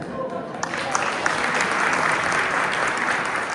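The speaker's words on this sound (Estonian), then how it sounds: "me kõik plaksutame sulle" Sustained applause from an audience at an Audru culture and sports volunteers' thank-you evening, a dense steady wash of many hands clapping, loud and close, with a voice faintly under it at the start.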